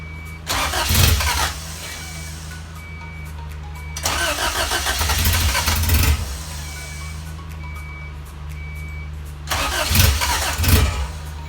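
A Honda CRX with a B17 engine cranks over with its fuel injectors cut off, three separate bursts of starter churning a few seconds apart, each stopping without the engine catching.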